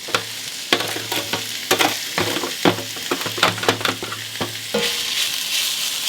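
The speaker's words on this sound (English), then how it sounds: "you can hear that sizzling noise" Onions sizzle in a hot pan for onion soup, a constant bright hiss punctuated by repeated sharp clatters and scrapes of stirring, close and fairly loud, with no talking.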